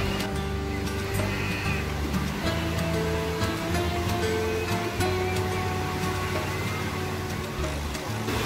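Surf washes steadily onto a busy city beach in Kusadasi, a continuous broad wash of waves with background voices and faint music mixed in throughout.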